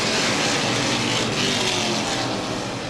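Late model race cars roaring past at Baer Field Speedway, a dense, steady engine drone from several cars at once, loud and continuous with no clear gaps.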